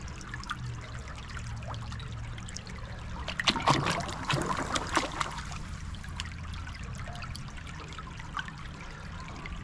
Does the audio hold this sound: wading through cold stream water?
yes